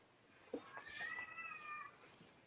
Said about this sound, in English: He just walks around the house meowing